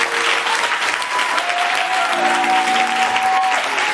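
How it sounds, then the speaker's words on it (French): A church congregation claps loudly and continuously at a service, a dense wash of applause that stays steady throughout. "Accordez une acclamation."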